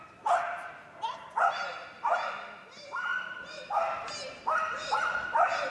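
A medium-sized dog yaps repeatedly during a jumping agility run at Crufts 2023, about eight sharp, evenly spaced barks close by, with an arena announcer talking underneath.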